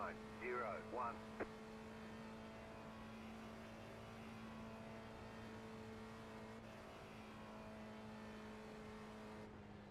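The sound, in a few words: car engine revving in iRacing video game, like a Corvette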